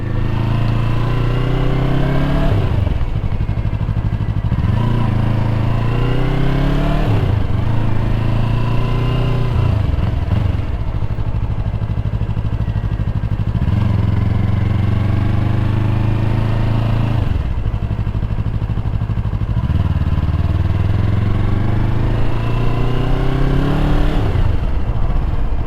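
A new Yamaha motorcycle being ridden, its engine humming steadily and close, with repeated rises and dips in pitch as it speeds up and changes gear over the whole stretch.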